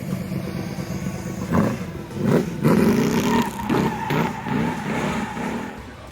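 A roadster does donuts, tires skidding and squealing in repeated swells over a low engine roar, loud and close, with no talking.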